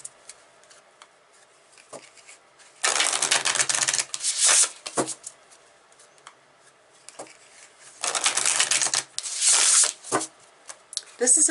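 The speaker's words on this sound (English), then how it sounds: "So let's pull some oracle cards." Oracle cards being shuffled by hand in two long bursts of rapid riffling and flicking, with quieter taps and card handling between them, close and fairly soft.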